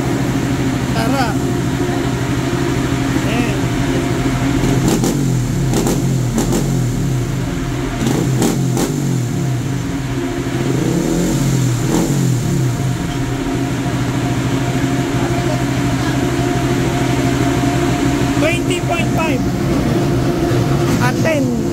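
A Honda RS150 motorcycle with a remapped stock ECU roars loudly and continuously at high revs, a steady, dense engine drone lasting the whole stretch, with voices faintly mixed in.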